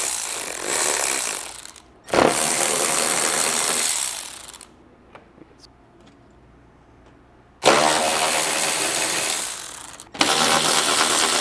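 A ratchet works loose the lower bumper fasteners on an FR-S, sounding in close, loud bursts of rapid clicking that run a couple of seconds each, separated by quieter pauses.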